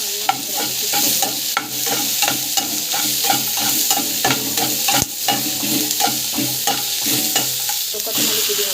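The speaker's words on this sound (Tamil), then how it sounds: "பூண்டு நல்லா வந்து வதக்கிக்கோங்க." Garlic sautés in a hot pan with a continuous sizzle, while a spoon stirs and scrapes in repeated rhythmic strokes, close and steady, with no voices.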